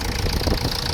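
A boat engine runs steadily close by with a continuous rumbling idle and no break in its rough, even drone.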